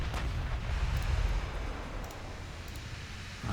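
Naval gunfire from the battleship Bismarck in a naval warfare game, a loud low rumbling boom that fades into a sustained roar and lingers across the whole moment without speech.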